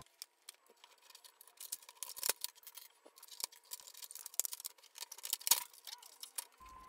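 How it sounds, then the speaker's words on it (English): Scrap plastic being cut with scissors to repair a crashed 3D-printed RC airplane, heard as a series of quiet, close snips and small clicks at an irregular pace, with no talking. "I'm gonna cut out the scrap piece plastic and then glue it back in place"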